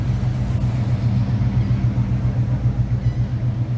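A car with an LS engine swapped in for its original 402 rumbles steadily on a foggy street cruise, a loud, even low throb that holds without revving.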